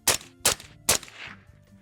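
An AK rifle fires PMC Bronze .223 55-grain rounds: three sharp shots at a steady pace, each ringing briefly. The shots sound distant or muffled rather than loud and close.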